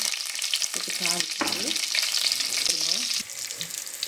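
Mustard seeds crackle and spit in hot oil, a steady close sizzle for tempering a fish curry, with a few stirring scrapes and short tonal squeaks on top.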